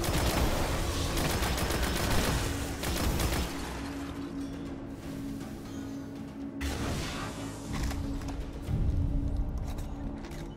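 Relentless weapon fire in Destiny, a dense barrage of rapid shots and blasts that keeps going through the whole stretch, loud and close with brief dips before surging again.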